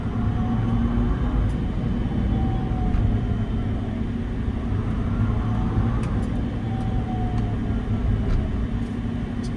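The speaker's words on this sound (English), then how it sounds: "There's quite a bit of motor noise" Inside a moving Tesla Cybertruck, a steady low electric motor and road hum fills the cabin without pause at a moderate level, with faint occasional ticks above it.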